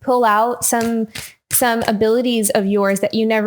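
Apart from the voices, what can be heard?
No everyday noises stand out.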